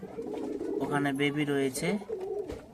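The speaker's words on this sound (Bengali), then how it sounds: "এখানে আপনি যত পেয়ার দেখতে পাবেন সব কালশিরা কবুতর রয়েছে" Kalshira Giribaz pigeons coo close by in a loft, a few soft rolling calls running under someone speaking throughout.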